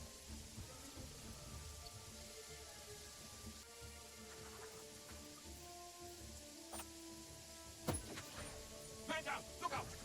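Steady rainfall in the video game Jagged Alliance 3, a constant soft hiss of falling rain at low level, with faint distant rumbles and a few sharper impacts near the end.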